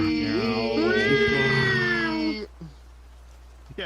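A person imitates a cat's meow, producing a long, loud, drawn-out vocal meow with rising and falling pitch, then breaking off into near silence.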